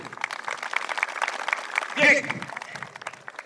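Applause at the opening ceremony of a bullring at a village festival, a dense patter of clapping with a short voice breaking in midway, moderately loud and steady.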